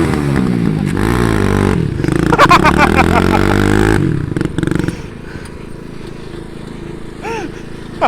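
A John Deere tractor engine revs loud and hard during a truck tug of war, a rough harmonic roar sustained for about four seconds before dropping to a lower rumble, with people talking over it.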